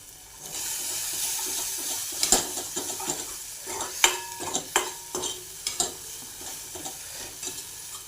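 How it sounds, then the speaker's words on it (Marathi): A spoon stirs cumin powder and turmeric into a tomato puree in a hot pan while cooking a black-eyed pea usal; repeated scraping clatters and sharp taps over a steady close sizzle. "आता हे सगळं मिक्स करून घेतलं जिरे पावडर आणि हळद टाकून घेतली"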